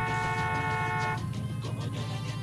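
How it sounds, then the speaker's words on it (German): A car horn in the Far Cry 6 video game holds one steady, sustained honk for about a second, then cuts off, leaving the game's background rumble and scattered noise behind it. "Hör auf zu hupen"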